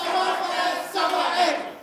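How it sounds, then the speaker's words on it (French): TV studio audience cheering and shouting, a loud sustained crowd roar that swells twice, with voices blended into the noise. "Je vais vous demander de vous applaudir bien plus fort que cela."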